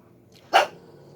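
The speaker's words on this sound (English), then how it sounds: "she likes to do her barking" A single sharp dog bark, close and loud, cuts through a quiet room during a cross-stitch session at home, then fades back to faint background.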